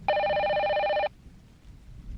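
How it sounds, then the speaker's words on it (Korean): A cordless telephone bell rings in one steady electronic trill for about a second, loud and close, then stops, leaving faint background hiss. "평소엔 울리지도 않던 바텔 무선 전화기 벨이 울리더군요"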